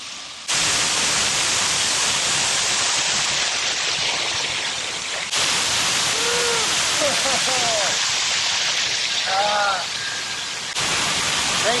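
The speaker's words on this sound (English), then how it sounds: "A fountain for absolutely no one." A water fountain in Kintex City sends out a steady broadband rush of falling, splashing water that fills the whole stretch, close and loud, with a few brief voices and faint tonal sounds rising above it.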